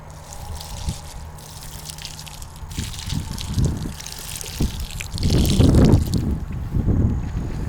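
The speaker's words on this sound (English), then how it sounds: "And here I would like to give some water to my rose plant also." Water is poured onto a rose plant in a small home garden flowerpot. It makes an uneven splashing and trickling sound that swells toward the end over steady wind noise outdoors.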